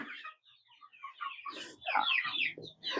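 Young chickens cluck and cheep close by underfoot in a run of short, uneven calls with brief pauses between.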